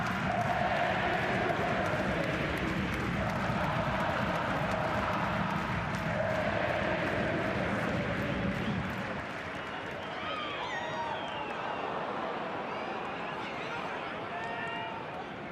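A stadium crowd of almost 15,000 roars steadily through an FFA Cup Final football match between Adelaide United and Melbourne City, a dense, loud wash that thins toward the end, with excited commentary over it.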